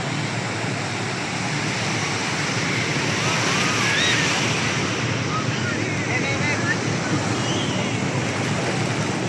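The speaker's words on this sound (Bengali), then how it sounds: "ইস বিশাল বড় ঢেউ এটা" Big sea waves crash and surge at Cox's Bazar beach in a loud, continuous roar with wind buffeting the microphone, while faint crowd voices drift through from a distance.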